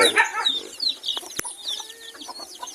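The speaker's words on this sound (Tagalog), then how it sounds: "So ngayon, ito yung mga sisiyo." Young chicks cheep with high, rapid chirps close by, mixed with a few clucks from a hen in a farmyard shelter, plus a sharp knock partway through.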